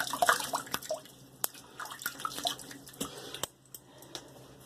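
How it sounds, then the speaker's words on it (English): Warm water is splashed onto a face during shaving, giving a run of irregular wet splashes and drips with sharp clicks, busy at first and then thinning out toward the end. "put warm water on my face"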